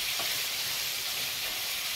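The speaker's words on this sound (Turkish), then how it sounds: "İlla önce soğan kavuracağım." Onion and minced meat frying in a pan for a zucchini karnıyarık dish, giving a steady close sizzle with broad hiss and faint stirring scrapes, no talking.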